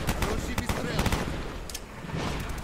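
Rapid bursts of G11 rifle fire in the shooter game Call of Duty: Black Ops, loud and close, repeating in quick clusters over dense battle noise.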